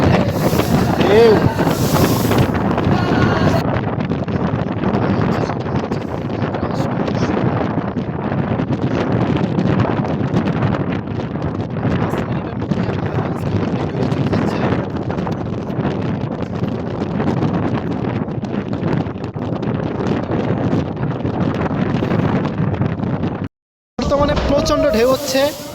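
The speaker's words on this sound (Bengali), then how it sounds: "ঢেউ হচ্ছে।" Wind roars steadily against the microphone as a passenger launch, the Paraabat 12, travels on the Meghna river, with the rush of river waves beneath it and a brief break in the noise near the end.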